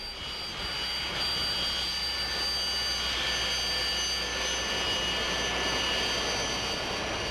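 Sukhoi Su-25 Frogfoot attack jet of the Russian Air Force, its engine giving a steady, loud broadband roar with a high whine throughout, close and continuous without talk.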